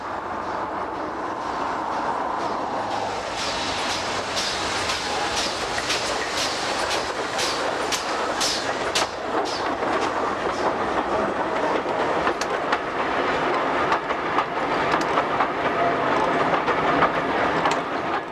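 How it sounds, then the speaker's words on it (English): A veteran steam locomotive hauling a vintage train rolls past with a steady, loud clickety-clack of wheels and rhythmic bursts of exhaust, building in intensity with no voices over it. "Our final view is of the veteran engine on the vintage train"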